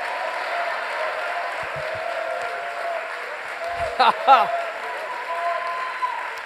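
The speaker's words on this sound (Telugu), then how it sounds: "సర్వజనులారా చప్పట్లు కొట్టడి" A crowd at a church prayer meeting claps steadily throughout, a dense, even patter, with a few voices briefly rising over it near the end.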